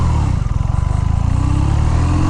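A 2023 BMW R nineT Pure with a 1200 cc boxer engine drones loudly and steadily while being ridden, its low pulsing exhaust note constant throughout under heavy wind buffeting.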